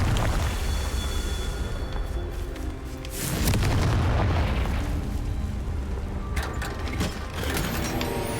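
Confringo fire spell explosions go off in Hogwarts Legacy, a rumbling fiery burst swelling midway through a dense, clattering mechanical game soundscape, with sharper crackles near the end.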